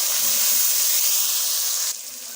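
Tomatoes tipped into a pan of frying onions for a fish curry give off a loud, steady steamy hiss that drops abruptly near the end and carries on more quietly.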